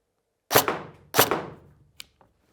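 Two sharp BB gun shots crack close by, each with a short decaying tail, followed by fainter taps as BBs strike a target on a black background.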